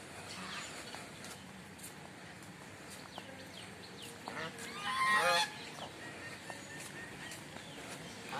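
Geese and other fowl kept on a rural farm near Patiala, Punjab, honk in a short burst near the middle, fairly distant amid faint bird calls and outdoor background.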